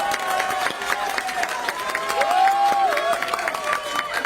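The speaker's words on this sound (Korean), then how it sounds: "박수 한번 주세요." Applause and cheering from a crowd at a Korean political rally, moderately loud and continuous, mixed with scattered shouts and a faint tonal sound in the background.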